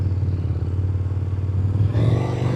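A KTM 1290 Super Duke R with its LC8 twin-cylinder engine in sport mode rumbles close by with a deep throbbing idle, then revs up as it rides off.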